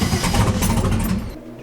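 A hot twin-turbo Mustang engine cranking and firing, a short loud rough burst of starter and engine noise that cuts off abruptly.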